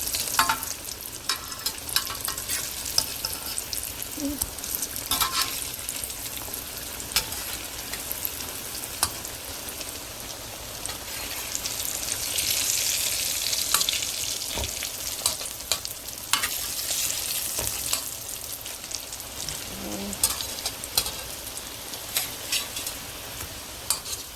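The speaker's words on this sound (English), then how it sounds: "I'm going to put it in the pan, start frying" Salmon cakes sizzle steadily in a hot pan, with occasional scraping and clicks of a utensil, no voices.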